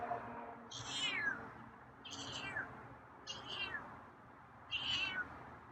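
Feral cat meows four times at roughly even intervals, close and clear over a quiet indoor background.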